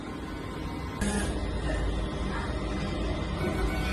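A four-head DTF printer runs its head cleaning cycle, a steady mechanical whir and pump hum that steps up in level after the first second and then holds constant, close by with no talk.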